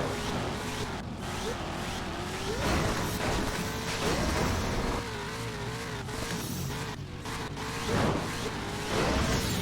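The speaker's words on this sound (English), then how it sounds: "this truck sounds so different than all the others" A monster truck's engine in the Monster Jam Urban Assault game roars and revs continuously, its pitch rising and falling, with tire squeals and skids mixed in while someone talks over it.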